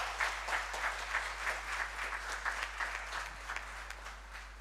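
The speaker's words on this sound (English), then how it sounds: "A good round of applause, guys." A graduation ceremony audience at Atria University applauds steadily, a dense, sustained wash of many hands clapping with a faint rhythmic pulse and no one speaking over it.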